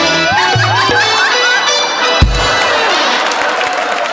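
An audience at a Marathi comedy show's awards stage bursts into applause and cheering; a short musical sting comes first, then a loud, dense wash of clapping breaks out and continues to the end.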